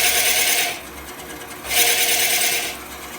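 A wood lathe turns a napkin ring at about 500 RPM while light cuts shave the wood, giving a steady close hiss and whir that swells, drops back, then swells again.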